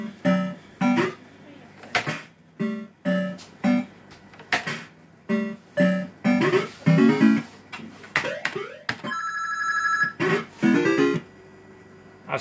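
Electronic chimes and rising tone sequences ring out in repeated short bursts from a Bell-Fruit Cash Force fruit machine as its cash pot advances, loud and close.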